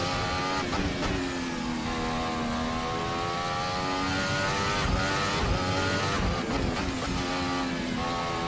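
Formula Hybrid race car lapping a track, its engine whining loud and close with steady high-pitched drone, pitch dipping under braking into a turn and climbing again as it accelerates, no talk.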